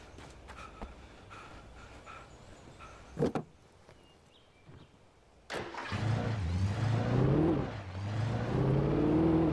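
A car engine starts up in the game Alan Wake Remastered, a sudden loud crank after quieter clunks and a brief door-like bang, then settling into a steady, full idling rumble that holds to the end.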